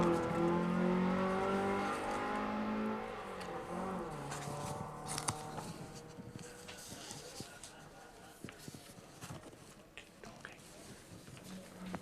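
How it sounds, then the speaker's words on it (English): A Datsun 1600 race car at a historic sprint accelerates away, its engine note rising through a revving pull and fading into the distance, with an announcer speaking over it. "Here's John Hall in the Datsun 1600"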